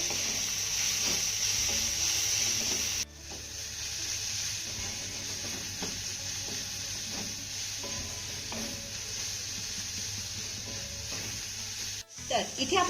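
Spoon stirring a spiced mixture of wheat flour dough ingredients, Maggi masala and salt in a bowl, a steady scraping, rustling texture running continuously over a faint background hiss, with a brief break partway through.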